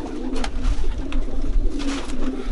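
Pigeons cooing close by in soft, repeated low calls, a few rolling coos over a quiet background.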